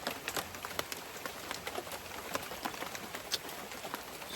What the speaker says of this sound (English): It's been raining for 1 hour.